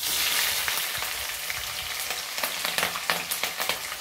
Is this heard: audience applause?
no